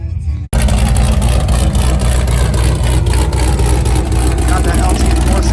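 Sand car with an LT4 engine revving hard and loud from close by after a brief quiet start, a raw, aggressive roar that stays throttled up throughout.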